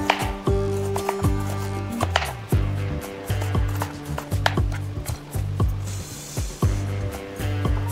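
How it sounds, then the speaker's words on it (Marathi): Bitter gourd sliced into round pieces on a cutting board, a steady series of crisp knife chops, close and distinct, repeating at a quick even rhythm with no talk. "सर्व कारली या प्रकारे आपण गोल गोल"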